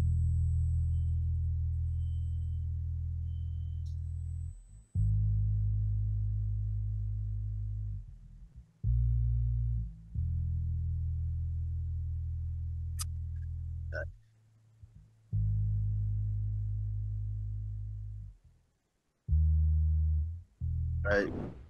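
Bass sample processed with saturation and compressor plugins: deep sustained sub-heavy bass notes in phrases of several seconds, with short gaps and brief high clicks, loud and alone.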